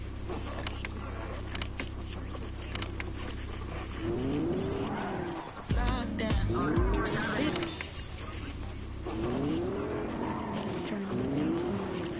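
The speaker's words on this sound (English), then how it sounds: "I love the sound when you're in the car." Car engine in the Fortnite video game, a steady droning hum with rising and falling revving sweeps as the vehicle accelerates, heard clearly with brief bursts of other game noise in the middle.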